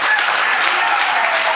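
Guests applauding at a civil wedding ceremony, a dense continuous burst of many hands clapping, loud and even throughout, with faint voices mixed in beneath.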